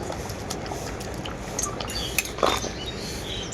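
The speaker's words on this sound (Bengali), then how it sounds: "এখন আমি ভেজে রাখা এঁচড়টা দিয়ে দেবো এর মধ্যে" Fried jackfruit pieces go into a pot of boiling chicken curry with metallic clinks and clatter from a ladle against the pot, over a faint liquid bubbling.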